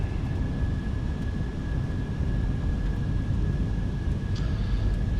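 An aircraft approaches to land in Microsoft Flight Simulator in poor weather, a steady low engine rumble and airflow roar holding an even level throughout, with a faint constant whine above it.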